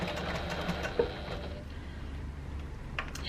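A sewing machine topstitches down the sides of a Swoon Ethel tote bag at a 1/8-inch seam allowance and 4.5 stitch length, a steady close whirring with light rapid ticking and no talk.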